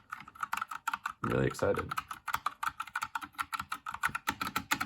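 Rapid clickety-clack keystrokes on a Havit mechanical keyboard, steady close typing that runs throughout, with a person briefly talking over it near the start.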